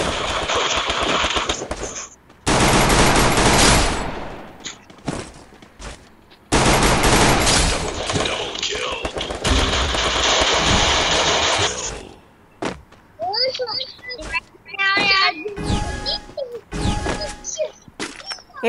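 Shotgun gunfire in Garena Free Fire, loud dense bursts of shots in long stretches separated by brief gaps, followed by scattered game sounds and chirpy effects near the end.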